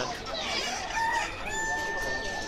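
Chickens cluck and a rooster crows amid a busy crowd of birds at an animal market in Jeddah with pigeon shops, faint voices mixed into the market clamor.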